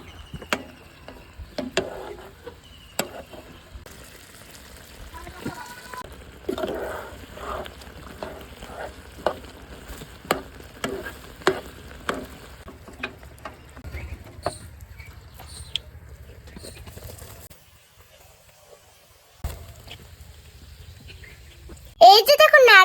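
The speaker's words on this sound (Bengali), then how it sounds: "যতক্ষণ না আঠালো হয় ততক্ষণ নারিকেল নাড়তে থাকবো" Grated coconut stirred in a pan until sticky, with a spatula scraping and tapping in irregular bursts over a faint sizzle, a quiet gap near the end and a sharp clatter at the close; voices are heard at times.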